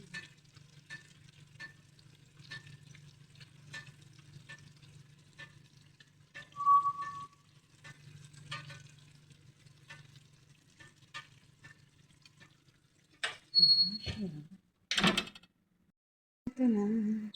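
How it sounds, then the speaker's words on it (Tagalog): A giant eggplant cooks in a pan, giving a soft, steady low sizzle and bubbling close by, with faint clicks and a few louder clatters and bumps near the end. "Kumukulo-kulo na."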